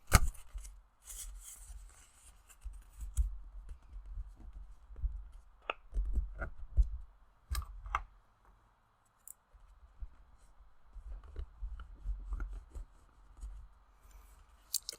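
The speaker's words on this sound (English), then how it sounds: "then I'm going to fold this section in half again." Paper being folded in half by hand, heard as soft close crinkles, rustles and creasing taps in quick irregular bursts with short quiet gaps.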